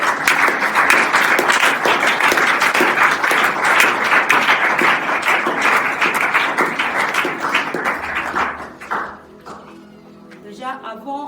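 A church congregation at a French-language youth service applauds loudly and steadily for several seconds, the dense clapping thinning into scattered claps before fading out.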